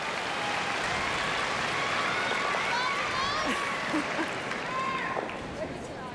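A curling crowd at the 1998 Scotties applauding a well-thrown shot, steady dense clapping throughout that fades slightly near the end, with voices talking over it.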